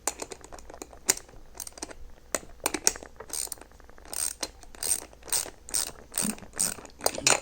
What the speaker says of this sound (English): Screw this on. Use my 9/16 wrench.